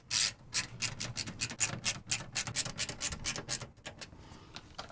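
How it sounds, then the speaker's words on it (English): Screws being driven into a Fractal Design Define R6 PC case, heard as a quick, steady series of close scraping, ratcheting strokes, about four per second, fading toward the end. "So we'll screw in the 4 screws first."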